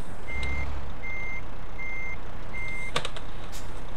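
A truck in Euro Truck Simulator backing up a trailer: four evenly spaced electronic reversing beeps sound loud and close over a steady engine rumble, followed by a short clatter.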